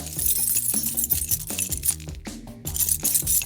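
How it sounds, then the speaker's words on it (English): Metal keys clinking and jangling against a Samsung A16 5G phone, a busy run of bright rattling taps close by with a brief pause midway. "Let's try and see how it reacts to putting the keys next to it."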